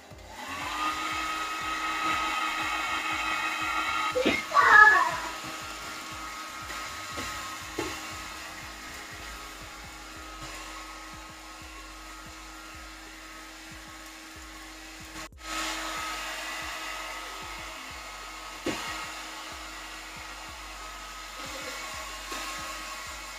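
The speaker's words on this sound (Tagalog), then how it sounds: "i-dry na natin yung buhok niya." A handheld hair dryer blows on hair after a Brazilian blowout straightening treatment, giving a continuous close-up whirring roar with a steady motor tone, a few brief bumps and handling knocks along the way, and no talking.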